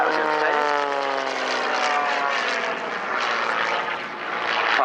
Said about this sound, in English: There you are, flying just literally hanging on the propeller